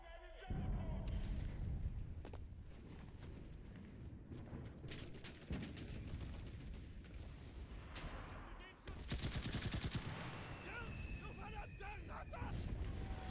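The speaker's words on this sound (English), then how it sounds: "Shots to my left, shots to my... No, shots right, shots right." Gunfire rattles through a battle in the video game Enlisted, with repeated bursts of rapid automatic shots and scattered single cracks over a constant rumble of combat.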